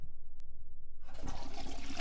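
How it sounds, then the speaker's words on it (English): A toilet flush from the video game Myst: a quiet low hum, then a sudden rushing gush of water that swells at about one second and carries on loudly to the end. "Toilet flushing also from Myst?"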